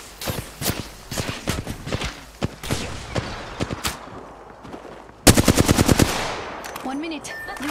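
Rapid automatic gunfire from Apex Legends: several close bursts of sharp shots, then a louder, tighter volley near the end, with footstep-like thuds and game effects between bursts.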